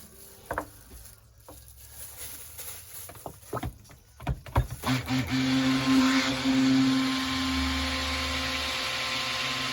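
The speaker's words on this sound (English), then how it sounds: "stick blend one more time" Stick blender whirring through beef tallow cold process soap batter scented with rosemary and grapefruit, starting in short bursts with bumps and scrapes, then running as a steady close motor hum.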